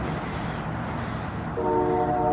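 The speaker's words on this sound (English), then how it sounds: "I'd like to be on that train." A train passes with a low, steady rumble, then a horn enters near the end and sounds loud and sustained over the rolling noise.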